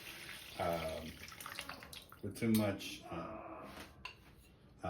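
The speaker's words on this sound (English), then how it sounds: "I'm just adding a little bit of water" Water is poured into a cooking pot while making fettuccine with tomato sauce and turkey meatballs, a soft running trickle heard under a person's quiet talking.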